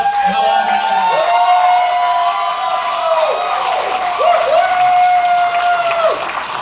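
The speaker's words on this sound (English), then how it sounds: "let's give another round of applause" Audience applause fills the room continuously with clapping, cheering and high whoops, loud and close, with voices mixed into the crowd noise.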